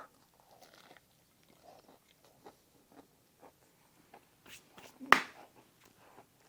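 Quiet, close crunching of a homemade Southern-style biscuit with a sharp louder bite near the end, surrounded by soft chewing and faint movement sounds.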